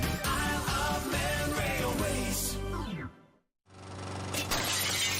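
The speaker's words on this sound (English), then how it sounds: "A small stone just flew off and shattered the conservatory window" A small stone shatters a conservatory glass window: a loud, dense crash and tinkle of breaking glass that fades out, a moment of silence, then a second burst of rattling and crashing.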